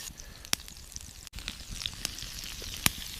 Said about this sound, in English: Basting the steak in butter with garlic and thyme increases the flavor